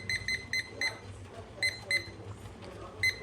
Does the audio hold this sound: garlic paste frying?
no